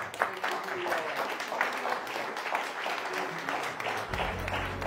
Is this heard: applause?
yes